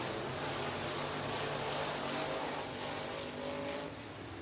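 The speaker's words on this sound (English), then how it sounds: "Team cars down the back straightaway." Race cars run down the back straightaway at Northwest Florida Speedway in Baker, Florida, their engines a sustained droning roar that holds steady at a distance and then eases slightly.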